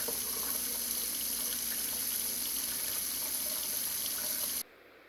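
Water runs steadily from a bathroom faucet fitted with an aerator, a continuous close hiss of flow that cuts off abruptly near the end, with no voices.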